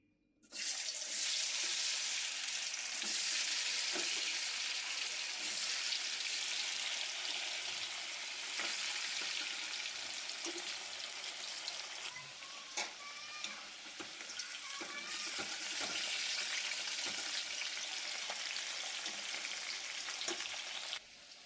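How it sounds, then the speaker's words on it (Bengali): Potatoes deep-frying in refined oil, a dense, even hiss of bubbling oil that runs steadily for the whole stretch, with scattered faint clicks of stirring, close and unbroken. "আলুগুলোকে আমি ছাকা তেলে ভালো করে আগে ভেজে নেবো"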